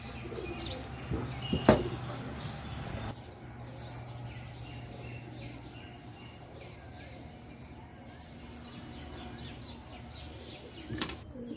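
Pigeons in a home loft, including a sick bird being fed, coo softly with brief wing flaps and a sharp burst of fluttering near the start, while someone talks quietly in the background.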